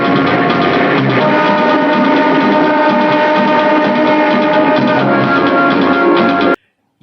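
A train rumbles steadily through a film sequence, a loud continuous clatter of wheels and carriages with a sustained tonal whine, set under dramatic background music and ending in a sudden cut to silence.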